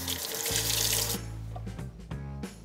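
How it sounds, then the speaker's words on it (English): Tap water runs from a faucet as a handmade craft piece is rinsed, a steady close splashing stream that shifts in tone as the piece moves under it, with no voices. "I'm gonna rinse this one too."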